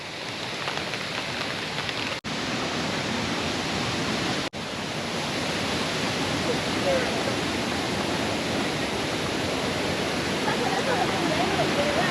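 A loud, constant rush of falling water roars without pause, broadband and steady, with two brief dropouts early on.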